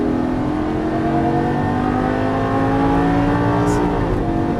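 A 2013 Lamborghini Gallardo accelerates hard around a race track at Vegas Exotic Racing, its engine a loud, steady roar with rising harmonics throughout, while an instructor's voice speaks faintly underneath.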